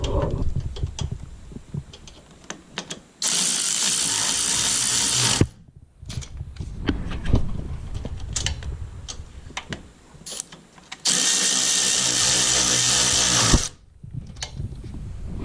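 A 12 mm socket on a ratchet tightens bolts on a 2006 Honda Civic during a VVT solenoid gasket replacement, with two sustained loud bursts of a power tool amid scattered clicks and clatter nearby.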